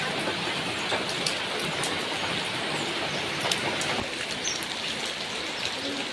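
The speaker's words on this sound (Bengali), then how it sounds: "বললাম না হালকা হালকা বৃষ্টি নামতেছে।" Light rain falls steadily in a village, a soft continuous patter of drops with a few faint bird calls in the background and no talking.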